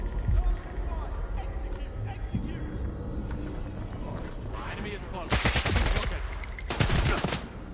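Gunfire in Stalker 2: Heart of Chernobyl, loud bursts of rapid automatic shots in two clusters near the end, over a rumbling game background while someone talks.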